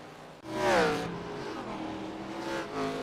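Race cars at World Wide Technology Raceway, one engine swelling sharply close by as it brakes and slides into a turn, then a steady roar as the field passes, with no voices.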